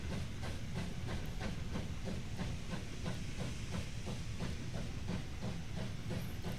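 A train in the video game Wobbly Life runs steadily with a constant hiss and rumble and a regular clickety-clack beat, moderately loud with no talking.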